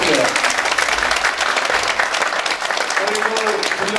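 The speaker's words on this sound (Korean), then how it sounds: "김성주 의원께 커다란 애정의 박수를 부탁드려요" An audience at a Korean policy forum breaks into sustained, dense applause, many hands clapping together loudly and evenly for the full stretch, with a voice briefly audible over it near the end.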